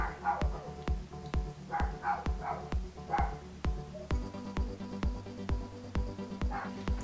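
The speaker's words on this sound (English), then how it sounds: "I'm so sorry if you can hear the dog next door barking." A neighbour's dog barks repeatedly in a steady run of sharp woofs, with several short yips in between. It sounds muffled and a little distant, heard through an indoor room with no one speaking.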